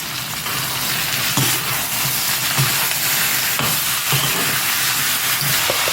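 Loud, continuous sizzling of chicken frying in a hot pan, with occasional scraping and stirring sounds, close up and without talk.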